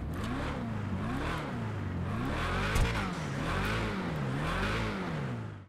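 Hellfire car engine in GTA Online with a supercharger, revving up and down repeatedly in a rhythmic wavering pattern. The sound is loud and close, with a whining layer over the engine note and no voices.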